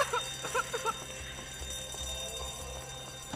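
A bank alarm in GTA 5 rings with a quick series of shrill electronic beeps at the start, then fades under a low background hum.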